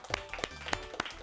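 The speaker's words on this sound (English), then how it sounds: "Let's give them all a round of applause." A handful of sharp, separate hand claps ring out in an uneven rhythm from the audience at a high-school Science Bowl match between Magnolia and University Park. The clapping is moderately close and not very loud.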